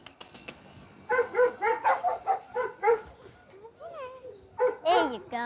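A dog, big enough that riding it like a horse is joked about, gives a run of short rhythmic barks and yips, then a thin, whiny whimper before barking again, with people talking nearby.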